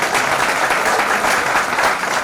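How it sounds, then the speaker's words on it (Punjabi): Congregation at a church ordination service clapping together, a dense, steady round of applause from a crowd filling the hall for the whole stretch. "ਆਪਣੇ ਲਈ ਤੇ ਤਾੜੀ ਮਾਰ ਦਿਓ ਖੋਲ ਕੇ"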